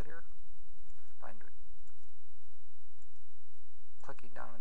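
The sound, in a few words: mouse clicking in dental design software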